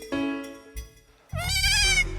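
Baby goats at a rescue vet bleat in two short wavering calls, the second longer and louder, close by and with no talk over them.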